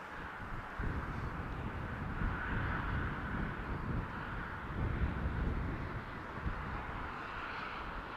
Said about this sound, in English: Airbus A320 from EasyJet, outbound London Gatwick, 7 years old, first flight January 2016.